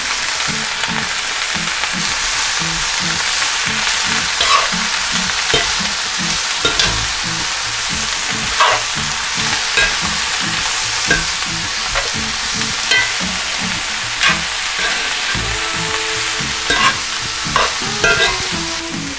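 Cabbage and bacon frying in a pan for Southern fried cabbage, a loud continuous sizzle broken by regular scraping stirs and soft clanks, close up and without any talking.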